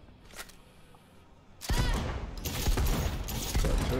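Gunfire in Cyberpunk 2077 during a gig shootout: after a quieter stretch with a faint earlier pop, loud dense shots burst in and continue as a heavy, sustained volley for the rest of the moment.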